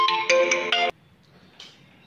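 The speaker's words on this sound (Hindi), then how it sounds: "एक मिनट बेटा फोन आ गया है।" Loud electronic mobile phone ringtone plays three bright, melodic bursts and then cuts off abruptly, leaving quiet room tone with a faint later chirp.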